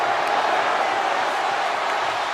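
A huge college football stadium crowd roars after an upset of the #1 team, a steady wash of distant cheering that holds level throughout.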